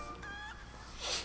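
A rooster in the video game The Legend of Zelda: Link's Awakening gives a brief, honking fowl-like call, about a second long, followed by a brighter high squawk, with no talk over it.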